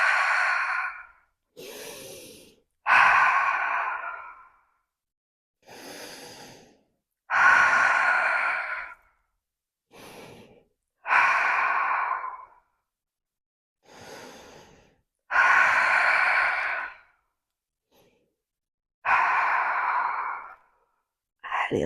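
Deep, audible breaths during a Pilates routine: about ten long inhales and exhales, each a loud breathy rush, separated by short silences.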